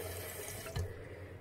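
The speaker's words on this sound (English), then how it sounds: "fill a cup about halfway with water" Tap water running steadily into a cup being filled about halfway to make bubble solution, a quiet, even flow with a slight splash near the middle.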